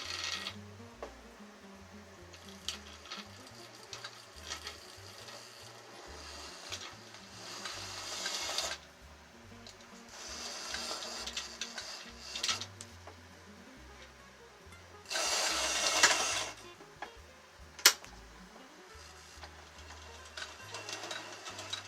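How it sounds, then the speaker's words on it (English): Tyco Chattanooga 2-8-0 HO model locomotive from 1975, freshly oiled and greased, crawling at half power with a quiet, faint mechanical whir and soft ticking, rising in a few short bursts. "That's a very quiet Chattanooga motor."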